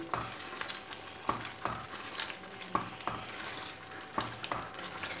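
A spoon stirs semolina and egg halwa in a hot pan, sending out rhythmic scraping strokes about every second over a soft continuous sizzle, close and clear with no talking.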